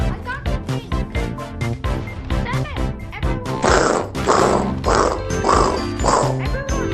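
A voice imitating a revolver sound effect with the mouth, a run of rhythmic voiced bursts heard close up in Animal Company VR, amid other chatter.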